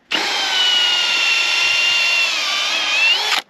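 Battery drill fitted with an auger bit boring a hole in the ground, a close, loud, steady whine lasting about three seconds with slight pitch wavering as it bites into the dirt.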